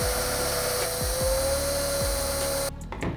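A power drill bit whines steadily as it bores through a carbon fiber car part, its pitch dipping under load in repeated surges, then cutting off abruptly as the bit breaks through.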